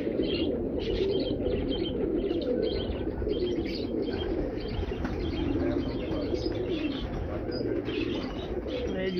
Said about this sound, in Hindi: ये स्पेयर कबूतर थे